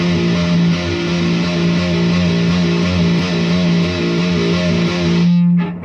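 Distorted electric guitar playing a steady run of rapid hammer-ons as a warm-up, loud and continuous with sustained notes over a thick overdriven tone, cutting off near the end.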